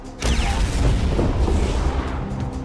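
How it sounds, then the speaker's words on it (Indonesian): A massive film explosion at an oil refinery erupts in a deep, sustained roaring boom, loud and rumbling throughout with debris-like crackle layered over the low blast. "Robert berhasil meledakkan kilang minyak alias jaringan bisnis terbesar milik para mafia tersebut sob"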